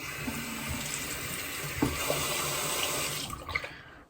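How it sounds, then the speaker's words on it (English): Tap water runs steadily into a sink, a continuous rushing stream with a few small splashes as something is rinsed, then it cuts off near the end. "I just washed it with like water."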